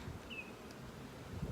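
Honeybees buzz around a hive outdoors, a faint, steady insect hum with a brief sharper passing buzz, heard alone without talk.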